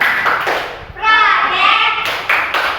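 A school class in Indonesia does a rhythmic clap chant, children's voices chanting loudly in unison with sharp bursts of hand claps close by.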